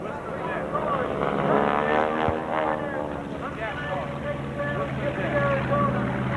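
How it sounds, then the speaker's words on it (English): A bomber roars overhead at a 1995 aviation heritage air show in Clark County, Indiana, a loud, steady engine drone with a shifting pitch, while a voice talks over it. "Watch high above it, the IRC-385 bomber."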